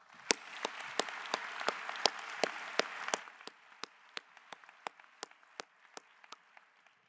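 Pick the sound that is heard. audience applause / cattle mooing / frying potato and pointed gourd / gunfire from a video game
audience applause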